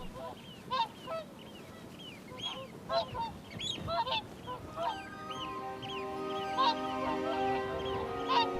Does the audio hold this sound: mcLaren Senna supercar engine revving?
no